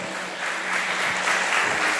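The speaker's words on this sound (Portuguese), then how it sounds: "Vamos aplaudir Jesus em forte" Church congregation applauding, a dense, steady burst of many hands clapping that swells slightly louder over two seconds, filling the room without voices.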